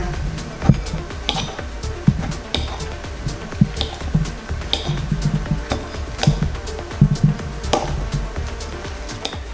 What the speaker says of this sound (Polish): Rozgniatamy banany widelcem.